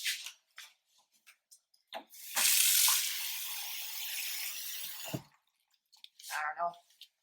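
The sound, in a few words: water running from a tap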